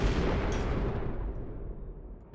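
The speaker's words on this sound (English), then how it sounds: "meteorites landing." Heavy meteorites crash down and explode in Oxygen Not Included, a dense, continuous roar of violent blasts and rumbling impacts, loud and close, with no speech.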